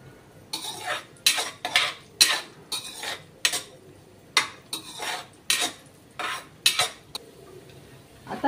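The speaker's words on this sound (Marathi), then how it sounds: "थोडं तुपात परतले काजू तुकडा तर छान असा खमंग वास येतो त्याला" Cashew pieces stirred in hot ghee in a pan, a spoon scraping and clinking against the metal in about a dozen sharp, regular strokes, close and clear over a faint sizzle, no voices.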